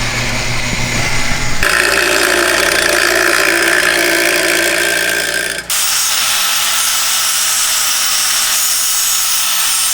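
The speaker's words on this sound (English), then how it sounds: "Luckily, we have some metal, so Brian's cutting this up real quick, making another delete plate" Metal being cut for an engine delete plate during a BMW ZHP engine swap, a loud continuous grinding whine whose pitch and tone shift abruptly twice as the cut progresses.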